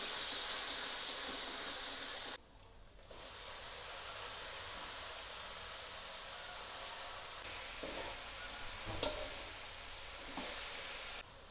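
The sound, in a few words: vegetables being stirred and cooked in a pan for papeda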